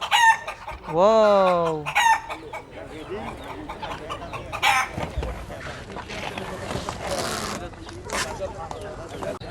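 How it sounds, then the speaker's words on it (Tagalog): Many chickens at a bird market in Seeb, Muscat, Oman, with a loud nearby rooster crow early on, then scattered clucking amid market bustle and people talking. "meron din mga manok. Daming manok dito oh."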